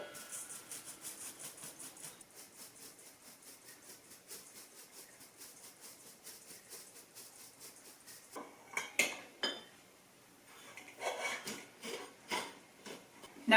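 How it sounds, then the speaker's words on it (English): Flour, cinnamon and salt being sifted into a bowl for banana muffins, a quiet, steady rhythmic rattle of the sifter that runs on evenly, then gives way to a few louder knocks and taps against the bowl near the end. "1 teaspoon of ground cinnamon, 1/2 teaspoon of salt, and we'll sift this all right into the bowl"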